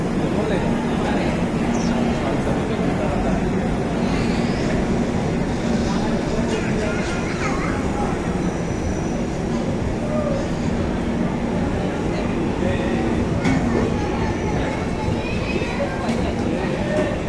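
Porbandar express train pulling into Jamnagar station, a continuous loud rumble and rolling clatter of wheels with faint squeals, while people chat nearby throughout.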